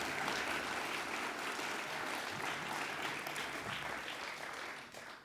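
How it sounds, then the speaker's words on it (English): Sustained audience applause at an animal justice awards ceremony, a dense steady wash of many hands clapping that carries on evenly before tapering slightly at the end, with no talk over it. "Please give Tim a round of applause too for all his work."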